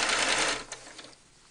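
A sewing machine stitches a cloth doll seam about a quarter inch from the edge, running in a loud, fast, close burst, then slowing and stopping within a second.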